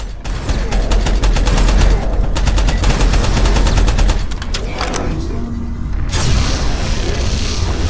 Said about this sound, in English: his gun, he gets a big burst, and then he has to, like, reload it